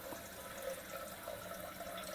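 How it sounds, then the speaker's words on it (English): Water is poured into the base of a pressure cooker, a steady, quiet splashing trickle lasting a couple of seconds, heard alone without speech. "First I will add this water to the pressure cooker base."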